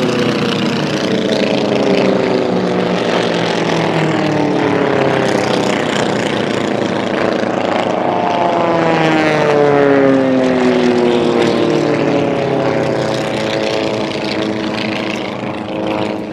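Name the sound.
propeller race aircraft flying past at air race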